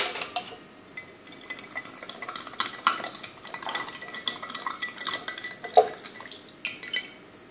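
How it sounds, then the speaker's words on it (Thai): A spoon stirs sweetened milk coffee with sugar in a glass, giving repeated light clinks and scraping taps at a close, moderate level with no talk. "คนเลยค่ะ"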